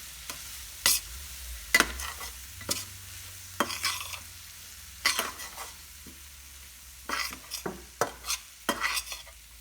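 Poppy seeds, fennel and grated coconut stir-fried in a pan as stuffing for bitter gourd, with intermittent scraping strokes of a spatula and a soft sizzle underneath, no voices.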